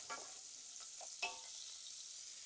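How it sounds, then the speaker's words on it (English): Steady hiss of chorizo sizzling in a pan, with a few faint scraping stirs over the continuous frying noise, quiet and close. "You can hear that sizzle, can't you?"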